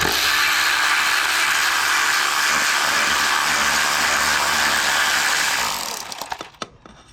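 Ratchet turning a 10 mm socket on an ignition coil bolt in a car engine bay: a continuous, close, rapid ratcheting whir that stops near the end and gives way to a few sharp clicks, no talk.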